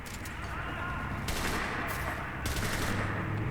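Machine gun fire in the World War II shooter game Enlisted, from an MG13 heavy machine gun, rattling in dense continuous bursts with rapid overlapping shots and a steady gaming backdrop, while a voice talks over it.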